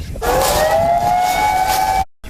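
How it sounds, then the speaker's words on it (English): A loud, steady tsunami warning siren wails on the US East Coast, rising slightly in pitch and holding, then cuts off abruptly into silence. "Just then, the siren."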